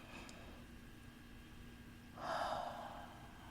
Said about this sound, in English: As you're still breathing in your nose.